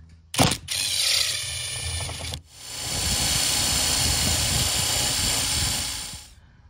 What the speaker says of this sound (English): We're going to remove that 10 millimeter.